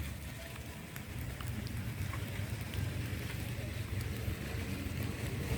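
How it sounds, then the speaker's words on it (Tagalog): Rain falls on a mountainside among forests, a steady broadband hiss of drops with a low rumble of wind beneath, constant and moderately faint with no talking. "pero umuulan guys ha"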